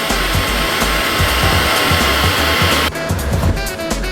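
A heat gun blowing hot air to shrink heat shrink tubing over a spliced wire connection on a motorcycle dash console install, a loud steady whooshing roar that shifts tone near the end, no voices.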